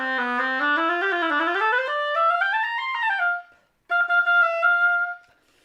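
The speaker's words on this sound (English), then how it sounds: "It's interesting that the crow is actually coming back up." A handmade double reed blown alone on its own, giving a loud, buzzy crow with rich harmonics that slides upward in pitch over about three seconds, then a short gap and a second steady crow at a fixed pitch.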